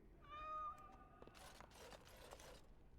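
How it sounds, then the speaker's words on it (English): A cat in the video game Dragon Age: Origins gives one clear, drawn-out meow with a rising then falling pitch, followed by soft clattering and rustling game sounds. "Oh, there's Sir Pounce-a-Lot."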